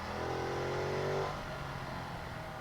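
A Ducati Multistrada V2S motorcycle riding in third gear, its engine giving a steady, loud rumbling drone with a rising tone that settles lower partway through, heard close and continuous over wind noise.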